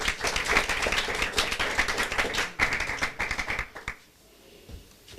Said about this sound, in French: Wilgad, sous nos applaudissements